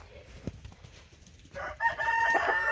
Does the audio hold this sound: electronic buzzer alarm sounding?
no